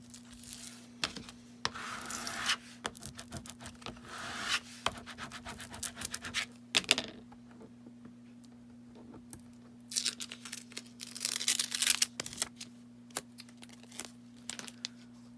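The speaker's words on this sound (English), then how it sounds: "I'm reusing the same piece of transfer tape." Vinyl decal transfer tape is rubbed down and handled, giving close, bursty scratching and crinkling strokes in quick runs separated by short quiet gaps over a faint steady hum.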